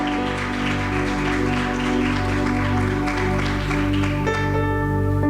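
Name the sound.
audience applause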